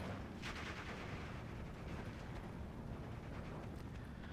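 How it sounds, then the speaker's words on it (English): Bombs explode in the WWII strategy game Steel Division 2, a dense, continuous low rumble of blasts and gunfire packed together at moderate loudness, with no voices. "Bombs, ouch, big hit."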